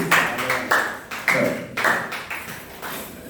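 Worship congregation applauding in bursts, several loud claps and thumps rising and fading in an uneven rhythm, close and reverberant.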